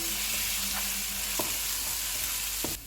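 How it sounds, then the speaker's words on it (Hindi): Continuous sizzling from a hot pan as ginger garlic paste fries, with occasional sharp scrapes of a spoon against the pan. "अदरक और लहसुन का पेस्ट डालेंगे। इसको भी 30 सेकंड तक फ्राई करेंगे।"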